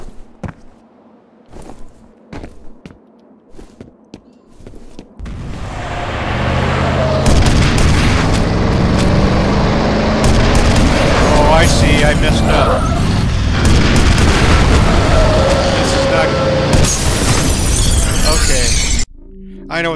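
Gunfire in the video game FEAR: a few sharp isolated shots, then a long, loud, dense barrage of blasts, shattering and booms, with someone talking over parts of it.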